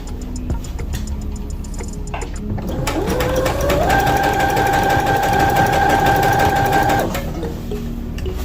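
A sewing machine runs a straight stitch on T-shirt fabric, first with slow, ticking stitches, then a steady fast whirring run for several seconds before it stops, heard close and alone.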